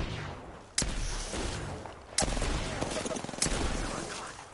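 Video game gunfire from Apex Legends with the Wingman pistol, three sharp, loud, evenly spaced shots over a dense rattle of battle noise, with a player briefly calling out.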